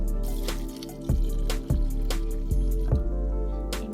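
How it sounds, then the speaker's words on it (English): Water being added to a pot of soaked mixed dal with turmeric powder for sambar, heard as several close, wet drips and splashes with low liquid gurgles, no talking. "I will add the water."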